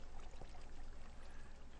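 Water being placed in Minecraft gives a brief, steady pouring and flowing wash, close and moderately loud, with no talk.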